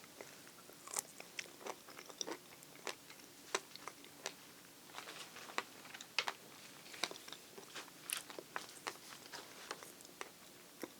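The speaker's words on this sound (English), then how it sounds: "And also very pronounced seed crunch." Close, crisp crunching of a Calvert fig's skin and small seeds while eating, a string of irregular sharp crackles and bites over a quiet background, with no speech.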